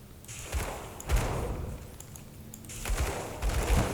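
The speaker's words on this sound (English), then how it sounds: "That fiery explosion there was Calamity Pocking, the relic we've been using for a while now." Fiery explosions from the Calamity relic in the video game Grim Dawn burst in a noisy combat scene, with several heavy thuds and crackling blasts under layered game noise.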